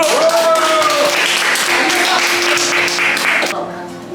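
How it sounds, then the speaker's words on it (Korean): A lecture audience applauds at a Korean talk on retirement finances, a dense, steady wash of clapping that holds for about three and a half seconds before thinning, with a faint sustained tone running underneath. "박수, 박수. 박수."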